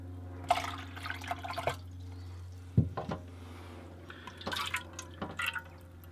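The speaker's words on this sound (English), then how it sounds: "I'm just pouring it into another bowl actually." Water drained from a caravan's system is poured from a measuring jug into a bowl, giving intermittent close splashing and trickling bursts over a low steady hum.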